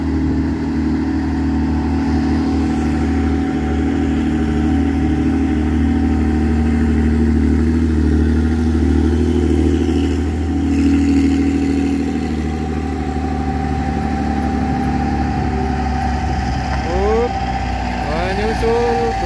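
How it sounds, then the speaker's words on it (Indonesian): Heavy Hino Ranger and Fuso trucks labour up a steep uphill road, their diesel engines a loud, continuous low rumble that stays close and steady throughout, with faint rising whines near the end. "Ini truk Hino Ranger dan Puso Oren."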